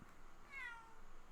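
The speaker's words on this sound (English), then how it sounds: "I need to interact with the cat first." Cat in the Great Ace Attorney video game gives a single short, faint meow over quiet background ambience.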